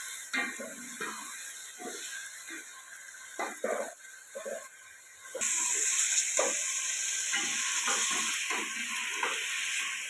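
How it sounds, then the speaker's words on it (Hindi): Chicken frying in a pan for a moringa-flower and meat curry gives a steady close sizzle with scattered stirring scrapes and clinks, growing louder and denser about halfway through. "चिकन हमने भून लिया है"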